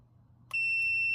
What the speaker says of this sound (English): So if I touch these two together, it should beep.